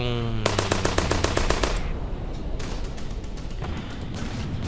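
Rapid machine-gun fire rattles in the tank video game Ground Forces as a quick burst of evenly spaced shots, followed by further loud shots, booms and a noisy battlefield background.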